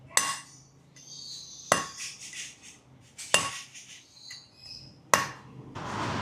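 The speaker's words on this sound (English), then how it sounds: "now to push the new bearings in, I'm going to use the old bearing. on top and then give it a few taps, gentle taps" Four sharp, ringing metal hammer taps, spaced a second or two apart, drive new bearings into place on a Classic 500 motorcycle, with an old bearing used as a drift; each strike rings briefly before fading, close and clear.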